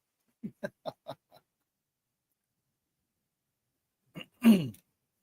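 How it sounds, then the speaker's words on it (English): A person gives a short series of quick throat-clearing grunts, followed after a pause by one louder, rougher cough, close and otherwise in silence. "I'm finding the remnants of that cough that I had a little bit."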